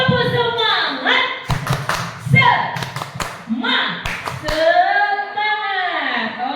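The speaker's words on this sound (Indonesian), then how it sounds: "Tepuk semangat." A group of teachers in a training session performs a chanted clap routine, sharp claps landing in short rhythmic bursts between loud sung or shouted vocal phrases, close and energetic.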